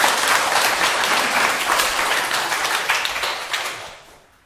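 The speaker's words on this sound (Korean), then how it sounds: "박수 한번 주세요." A crowd claps steadily for several seconds, a dense, even round of applause that fades out near the end.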